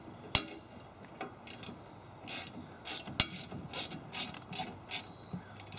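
Bolts with lock washers tightened by hand on target stand brackets: a run of quick ratcheting clicks and metallic scrapes in irregular bursts, with a couple of sharper clacks, close and moderately quiet.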